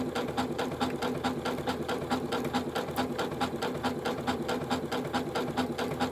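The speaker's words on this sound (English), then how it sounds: "Goes across at the top a few times and then it's going to start working its way back down the other side." A Janome sewing machine stitches a one-step buttonhole at a slow, steady pace, its needle thumping in a fast even rhythm over a constant motor whir, close and moderately loud with no talking.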